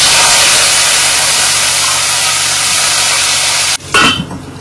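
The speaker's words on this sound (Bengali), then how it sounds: "আলুগুলো ভাজা হোক" Continuous loud sizzling of potatoes frying in hot oil for sukto, steady and hissing, with a brief dip and a stir near the end.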